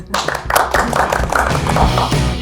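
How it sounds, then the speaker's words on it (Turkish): Hands clapping through the close of a live Binance TR chat broadcast, a busy close patter of claps over a low steady hum, with no words spoken. "Alkış"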